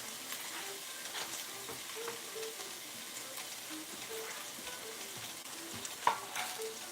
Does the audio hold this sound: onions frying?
yes